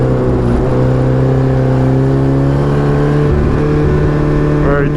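A race car accelerates hard on a wet Summit Point Raceway, its engine note loud and sustained with rising harmonic tones throughout, recorded close from the cockpit.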